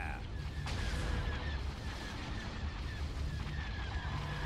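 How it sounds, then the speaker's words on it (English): Starship weapons fire in Star Wars: Empire at War, a steady low rumbling barrage of blasts with repeated whistling laser tones layered on top, continuous and moderately loud. "Direct fire on those torpedo tubes."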